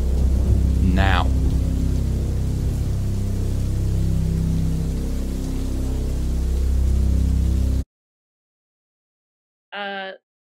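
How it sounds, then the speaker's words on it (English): A rain stick rattles in a continuous hissing patter like falling rain over a low rumble, then cuts to silence before a brief final burst near the end. "He's got a rain stick"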